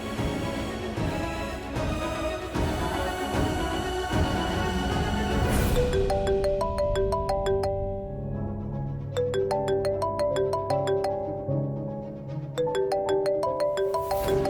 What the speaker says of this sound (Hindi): उसके फोन की रिंग तो घर से ही आ रही है